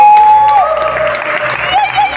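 A worship congregation at a prayer gathering applauds and cheers in praise of the king of kings, a loud continuous swell of clapping and voices with a sustained sung or shouted tone riding over it.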